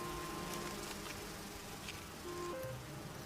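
Bees buzz in a steady, droning hum with shifting pitches, close and continuous against a hissy background.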